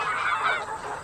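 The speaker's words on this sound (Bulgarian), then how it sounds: "А гъски около реката защо размахали крилата и те са глупи закрещели." Geese near a river honk in a dense, continuous burst of overlapping nasal calls, loud and close, lasting about a second before cutting off abruptly.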